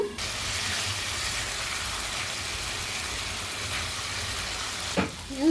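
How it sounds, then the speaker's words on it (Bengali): Winter vegetables sauté with spices and roasted cumin powder in a pan, giving a steady, moderate sizzle throughout and a brief clatter near the end, for a tilapia fish curry. "সবজিটা কষানো হয়ে গেছে"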